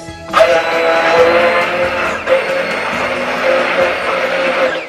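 An electric hand mixer whirring through egg yolk batter for soufflé pancakes, a loud steady mechanical buzz with a sharp start and slight shifts in pitch as the beaters move.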